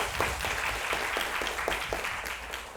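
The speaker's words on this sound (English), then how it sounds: "Shall we give a big round of applause to Josephine Lee?" Steady applause from a keynote audience in Hong Kong, a dense wash of clapping hands at moderate volume that holds evenly throughout with no talking.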